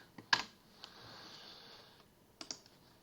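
Someone types ipconfig on a computer keyboard: a few sharp key clicks at the start, a soft steady hum in between, then another quick pair of keystrokes near the end, all quiet and close.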